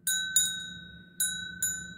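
An antique servant-calling bell with a figure whose head moves is shaken, giving four bright metallic rings in two pairs, each with a long shimmering decay, over a quiet low room murmur.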